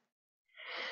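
A single sneeze: a faint breath, a short silence, then a loud, breathy burst rising sharply.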